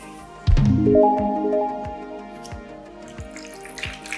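Water is poured into gluten-free bread ingredients, a gurgling splash whose pitch rises as a container fills, followed by a few scattered drips.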